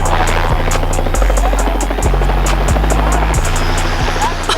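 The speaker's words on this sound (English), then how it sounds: "A helicopter landing spot?" A helicopter with loud, steady rotor throbbing and engine hum, continuous and close throughout, heard alone without talk.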